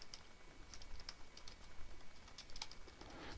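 Keys clatter on a computer keyboard in a quick, uneven run of light taps, close and fairly quiet, with no voices.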